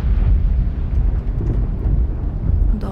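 Thunder from a lightning strike in the horror video game Among the Sleep, a heavy, continuous low rumble that fills the whole stretch with a brief brighter crack near the end.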